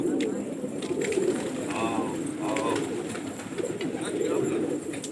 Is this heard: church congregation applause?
no